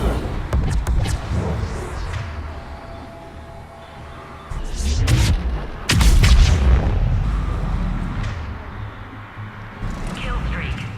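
Enemies blow up in the video game Mass Effect 3: heavy booms and sharp cracks of gunfire burst in irregular clusters, some loud and close, while a voice talks over the action.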